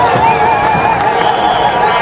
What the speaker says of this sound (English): And the crowd has gone absolutely crazy.